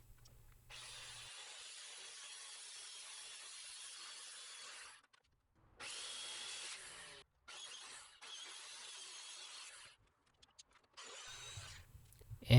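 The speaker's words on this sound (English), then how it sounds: "first cut on the 3/4 inch plywood." A power saw cuts through 3/4 inch plywood in several bursts, a long steady run followed by shorter passes separated by brief pauses, close and moderately loud with no talking.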